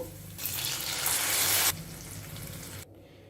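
A sudden loud sizzle and hiss as cooked lentils hit hot tempering oil, fading after a moment to a quieter bubbling before it cuts off.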